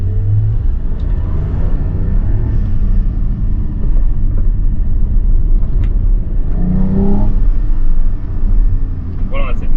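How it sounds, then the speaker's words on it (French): Porsche Cayman GT4 flat-six engine with manual gearbox accelerating on track, a steady loud rumbling drone that rises in revs, heard from inside the cabin with a voice talking over it. "on a cette magnifique sonorité du flat 6"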